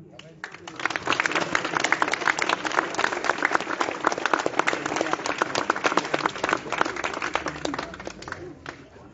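Crowd at an inauguration ceremony for a town square applauding the firefighters, a dense sustained round of clapping from many people that swells after a second and holds steady before fading at the end.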